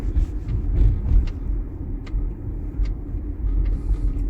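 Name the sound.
Hyundai Genesis car driving around the block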